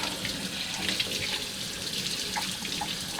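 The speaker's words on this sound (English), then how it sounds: "And then you want to give your float a good rinse." Tap water runs steadily over the float of a Bissell TurboClean PowerBrush Pet 2987 carpet cleaner as it is rinsed, a close, continuous splashing hiss.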